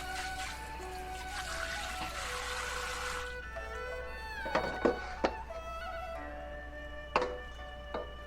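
Water runs and splashes into a wok for about three seconds, then stops, followed by a few clanks and knocks of the metal pan being handled nearby in a kitchen.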